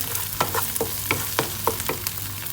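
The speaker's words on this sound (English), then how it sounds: "Then mix it around another 10 seconds" Tomato paste being stirred into masala frying in a pan, a steady sizzle under a run of regular scraping spoon strokes, close and moderately loud, with no voices.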